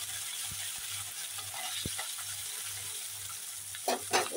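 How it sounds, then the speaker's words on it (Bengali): Boroli river fish frying in a pan with oil, a quiet, even sizzle with a faint low rhythmic hum beneath, a few small clicks, and brief louder spatters near the end. "মাছগুলো ভাজা হতে হতে"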